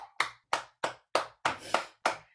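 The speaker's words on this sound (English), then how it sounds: "Can we clap it out for me?" A group claps in unison at an online soul circle gathering, seven sharp, evenly spaced claps ringing out close and loud with brief silences between them.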